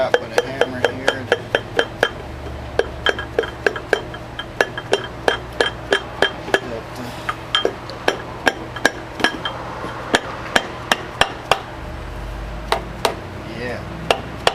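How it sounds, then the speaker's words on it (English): A hammer taps a bearing plate down onto a shaft in a long run of sharp metallic strikes, mostly evenly spaced with brief pauses, ringing clearly over a low background hum. "Then you tap with a hammer here."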